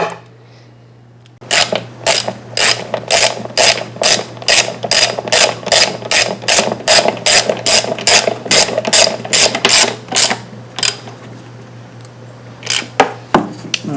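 A ratchet wrench tightens a 10mm bolt on the back of a Kohler carburetor from a Toro Recycler mower, giving a loud, close run of about twenty evenly spaced clicks, then a pause and a few final clicks.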